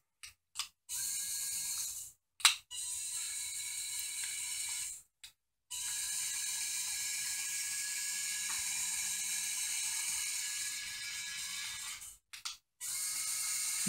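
A 3D-printed remote-controlled half-scale Robie Junior robot runs its motors in several sustained mechanical whirring bursts separated by short gaps of silence, steady and fairly close, with no talking.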